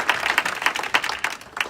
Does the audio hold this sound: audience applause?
yes